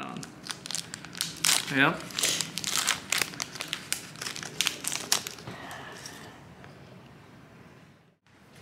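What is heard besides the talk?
cutting open plastic wrapping on Pokémon card pack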